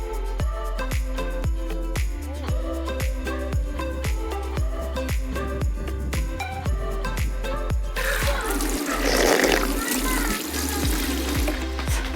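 A washing sink at a Jirisan valley campground runs with water: music plays first, then a rushing, steady stream of running water takes over for the last few seconds.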